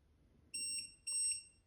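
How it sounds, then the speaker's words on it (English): Two high-pitched electronic beeps from a Shimano electronic bicycle shifting system, each about half a second long, sound in quick succession against a quiet background. "This thing is beeping like crazy."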